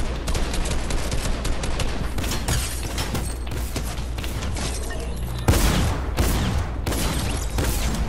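Rapid, dense bursts of gunfire in the video game Fortnite crackle almost continuously, with a sharper, louder shot partway through.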